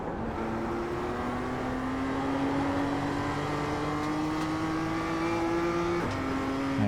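A BMW M2 accelerates hard around the Okayama race track, its engine note climbing steadily and loudly for several seconds before a brief drop at a gear change, with constant wind and road roar and no talking.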